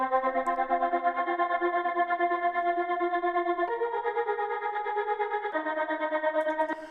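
A sampled voice from a Kontakt instrument sits as background ear candy in a melodic breaks track, a sustained harmonic pad-like tone that shifts pitch twice and pulses steadily with effects, with no talking.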